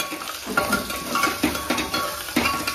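Green chillies fry in oil in a pan while a spatula stirs them, making a soft sizzle broken by a rhythmic series of scraping, clinking strokes about twice a second.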